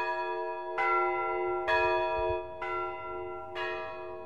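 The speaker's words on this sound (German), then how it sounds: "Hoch über dem Fluss läuten die Abendglocken des Klosters von Turuchansk." Evening bells of the Turukhansk monastery ring high above the Yenisei river in northern Russia, four evenly spaced, resonant strikes with long ringing decays.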